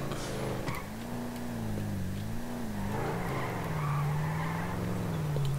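A sustained tire squeal wavers in pitch over a steady engine drone, continuous and fairly loud, like a car sliding around a corner in Grand Theft Auto V.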